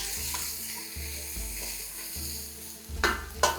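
Food sizzles and is stirred in a pan on the stove while cooking manja with eggplant, a steady frying hiss with soft scraping strokes and a couple of louder clatters near the end.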